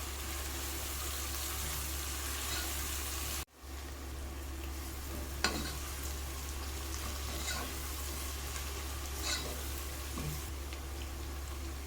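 Cashews, sliced green chilies and spices frying in hot oil for rice, a steady loud sizzle throughout, broken by a brief dip near the start and a few faint stirring clinks.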